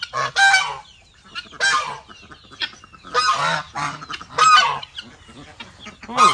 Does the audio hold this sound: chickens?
yes